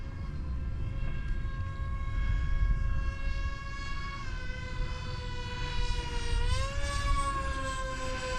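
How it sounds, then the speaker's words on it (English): An FF-Supersonic RC model airplane passing overhead, its high-pitched propeller and motor whine holding steady, then swooping downward in pitch as it flies by, continuous and fairly loud. "this really is a nice flying plane"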